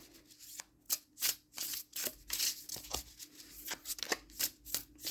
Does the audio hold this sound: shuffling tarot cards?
yes